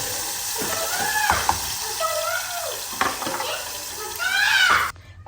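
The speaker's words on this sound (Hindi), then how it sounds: "अब मैं ऐड कर रही हूँ इसमें टमाटर।" Tomatoes dropped into a hot pan sizzle and hiss steadily, with clattering stirring sounds and scraping, before the sound cuts off abruptly near the end.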